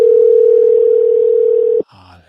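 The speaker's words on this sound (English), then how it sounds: "Phone ring, Tade." A telephone ringback tone sounds as a single loud, steady electronic hum up close, then cuts off abruptly, and a short, fainter burst of tones follows.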